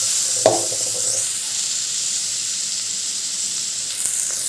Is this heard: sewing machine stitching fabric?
no